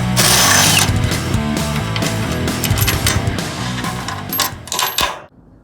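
A ratchet clicks rapidly and continuously as bolts are tightened on the rear suspension of a 1955 Chevy truck, metallic clatter loud and close, then tapering into a few separate clicks before stopping.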